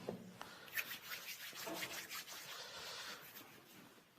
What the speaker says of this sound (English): We'll begin by sanitizing our hands.